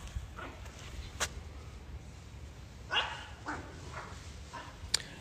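Dogs bark in a few scattered, short bursts at moderate distance, with quiet gaps in between and no voices.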